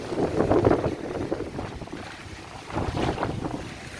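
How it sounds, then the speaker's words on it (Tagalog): Strong gusty typhoon wind buffets the microphone with low rumbling roars, rising and falling in surges, with faint water movement underneath, on a rocky shore in Dao, Antique, Philippines. "may bagyo ngayon."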